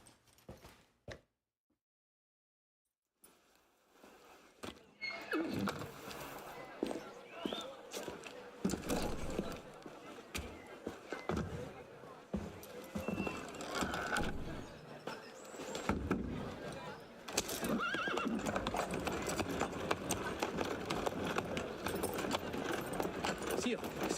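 Horses in the Assassin's Creed Unity video game: a stable scene with irregular hoof clops and shuffling, a brief silent gap near the start, then busier mixed activity under frequent voices.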